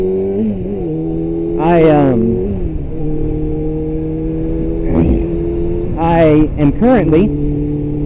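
A 2000 Kawasaki ZX6R 600 motorcycle engine idles steadily and revs up sharply twice, once briefly and then again in a couple of quick blips, while someone talks over it.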